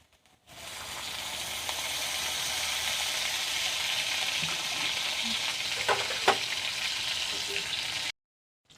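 Oil sizzles in a hot pan on the stove, a continuous crackling hiss that starts abruptly, holds steady with a couple of faint utensil clicks, then cuts off.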